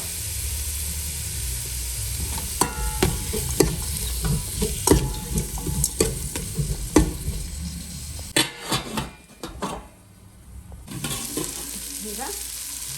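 Chopped tomatoes frying and sizzling in a pan for rasam, with a steady hiss under intermittent stirring scrapes and clicks of a utensil, and a brief quieter pause near the end.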